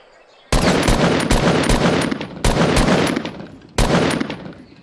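Rapid automatic gunfire in a video game comes in three long, loud bursts of dense, continuous shots, separated by brief pauses.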